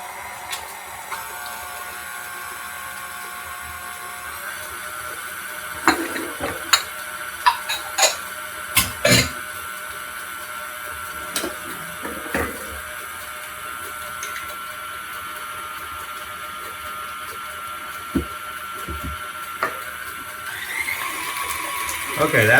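A KitchenAid stand mixer beats peanut butter pumpkin cookie batter, giving a steady motor whine broken by scattered clicks and knocks, with the pitch shifting near the end.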